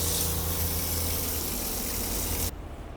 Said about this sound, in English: That's the water pump.